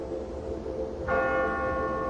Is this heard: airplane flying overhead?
no